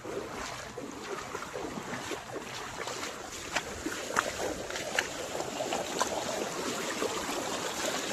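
Swollen river floodwater rushing across farm fields and village plots after heavy rain, a steady broadband watery roar with a continuous, moderately loud wash of flow throughout.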